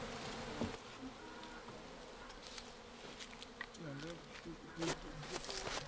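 Faint, busy buzzing of many honey bees swarming close by during a harvest in Burkina Faso, with a muffled voice murmuring underneath.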